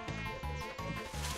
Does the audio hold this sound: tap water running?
no